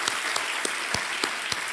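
Studio audience applause on the Hindi TV quiz show Kaun Banega Crorepati, a steady dense clapping wash with sharper individual claps popping out, loud and continuous throughout.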